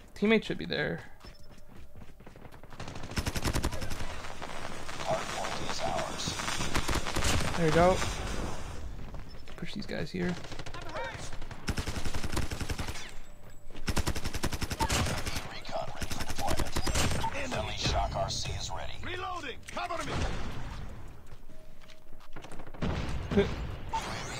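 Automatic sentry turret fire in Call of Duty, bursts of rapid gunshots repeating over about twenty seconds amid other battlefield gunfire, with players talking over the shooting.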